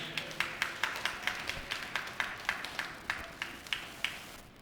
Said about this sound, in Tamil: கைத்தட்டி அவரை மையப்படுத்துங்க